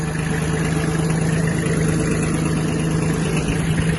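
A Kubota B1502 Japanese mini tractor's small engine runs steadily at a constant idle, a loud droning hum with no change in pace and no voices.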